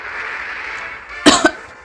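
A person coughs sharply twice in quick succession near the end, loud and close, after a quieter stretch of low background hiss.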